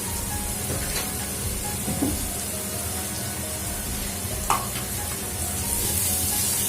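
Grated carrot and capsicum frying in a pan for sabudana khichdi, a steady close sizzle and hiss with a few soft stirring knocks.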